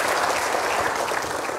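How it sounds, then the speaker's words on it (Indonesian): A talk-show audience gives a brief burst of dense, even applause, many hands clapping at once with no pauses. "Kasih tepuk tangan dong"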